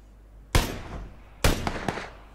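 Two sharp gunshots ring out in the PUBG video game about a second apart, each with a rolling echo tail, the second followed by a couple of smaller cracks.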